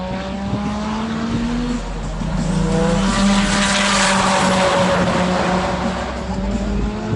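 Caterham race car on a time attack track at a tuner event, its engine droning loudly and steadily past with rising and falling pitch, tire noise mixed in, no talking.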